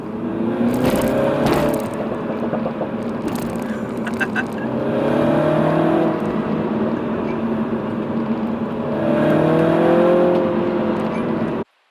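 A MINI Cooper S F56 John Cooper Works engine revs loud and close in several rising and falling pulls, with cabin rumble between them and a few brief clicks early on.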